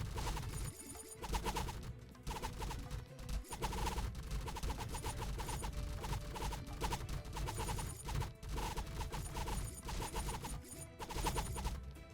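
Dense, continuous barrage of bullet fire from a boss and gray demons in the game Darkchaser Battletide, sharp cracks and smashes layered over busy game music, loud and unbroken throughout.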